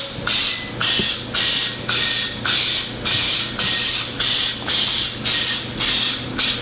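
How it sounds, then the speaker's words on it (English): Rapid bursts of aerosol cooking spray hiss onto a muffin pan in a steady series, about ten short sprays in a row, close and loud with brief gaps between. "We're going to spray them down so that easily will come out."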